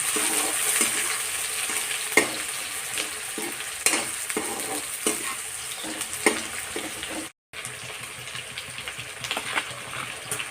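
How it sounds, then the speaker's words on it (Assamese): Onions frying in hot oil in a pan, with a continuous close sizzle and periodic scraping stirs, cut off by a brief silent gap before the sizzling resumes. "এতিয়া তেল গৰম হৈছে, মই এতিয়া পিঁয়াজ দিছোঁ। লৰাই দিছোঁ আৰু"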